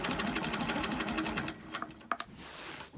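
A sewing machine stitches a wholecloth quilt in a fast, steady, close run of needle strokes, then slows and stops, leaving a few brief clicks and thumps.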